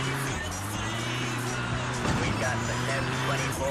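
Stolen car driving in GTA 2, a steady game engine hum running throughout with a brief shift midway, loud and continuous under a speaking voice.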